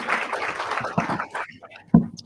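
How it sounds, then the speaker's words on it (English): A crowd at a youth summit in South Africa gives a burst of loud applause that thins out and fades after about a second and a half, leaving a few scattered claps and room noise. "One more round of applause."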